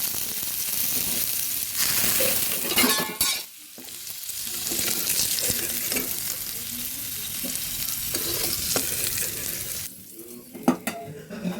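Potatoes sizzle and fry in a pan with a steady hiss, broken by stirring and scraping of a utensil and a brief quieter pause.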